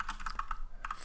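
Key presses on a computer keyboard while zooming in Inkscape, a quick run of distinct clicks in steady rhythm, close and clear with no talking.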